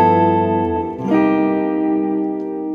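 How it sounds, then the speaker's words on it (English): A sustained jazz dominant seventh chord voiced with a ninth and thirteenth rings out, with the voicing shifting about a second in and then holding steady and fading slightly, with no talking. "I'm going to play a dominant 7 with a 9 and the 13."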